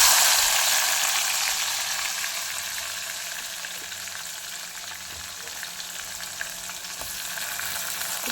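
Finely chopped garlic and small shallots fry in a pan with a quiet, continuous hiss that stays even throughout.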